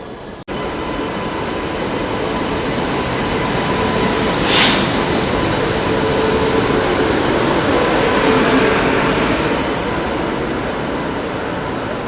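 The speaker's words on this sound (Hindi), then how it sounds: "ये रही अपनी प्राइवेट तेजस एक्सप्रेस, इंडियन रेलवेज की पहली प्राइवेट ट्रेन लखनऊ तेजस एक्सप्रेस" Steady loud rumble and hiss around the private Lucknow Tejas Express with an AC chair car at a station, with a brief sharp hiss midway and no speech.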